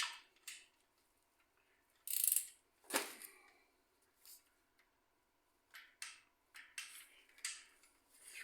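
A torque wrench tightens sump bolts on a Nissan 350Z with short, quiet ratcheting clicks and metallic ticks in separate bursts. A sharper click breaks the otherwise quiet background.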